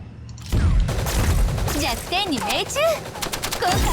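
Rapid automatic gunfire from a weapon in a shooting video game, a dense burst of shots, loud and close, continuing for several seconds alongside whooshing effects and game sounds.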